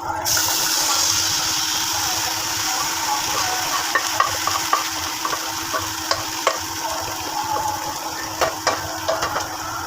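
Chicken poured into a pot of frying rice for tehari, a loud steady sizzle with rushing, bubbling liquid, followed by scattered stirring clinks and scrapes, close and without talking.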